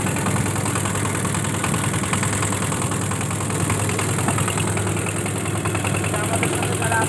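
A boat engine runs steadily on a river crossing to a char island near Ulipur, Kurigram, a constant low drone and vibration close by with people talking over it.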